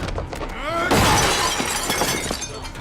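A table smashing apart in a staged film fight scene, a loud splintering crash with a shattering burst near the one-second mark, trailing into scattered debris clatter, with faint voices underneath.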